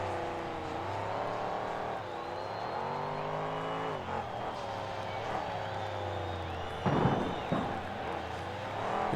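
A monster truck engine roars and revs continuously through a freestyle run over obstacles such as a garbage truck and fountain, with pitch swinging up and down, a loud impact burst near the end, and a commentator talking over it.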